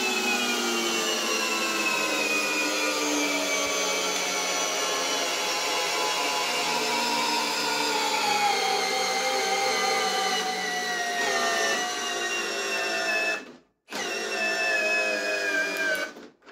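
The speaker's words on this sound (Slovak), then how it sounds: "aktuálne teda C2 verzia bola silnejšia a zatočila tú desinu skrutku" A Parkside Performance PABSP 20-Li C2 cordless drill driving a screw into wood: a steady whining motor that labors and slowly drops in pitch for several seconds, stops briefly, then runs again before cutting off.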